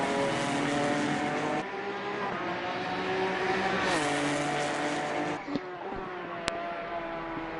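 Several GT3 and GT4 race cars circle the Spa circuit in a racing video game, engines whining steadily and rising and falling in pitch as they shift gears, with a brief tire or impact click near the end and no talking.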